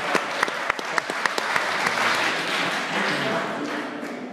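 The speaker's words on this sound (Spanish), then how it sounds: "Se merece un aplauso, por favor." At a school gathering, a few crisp, isolated claps open up, then an audience fills in with warm, steady applause that holds at moderate loudness.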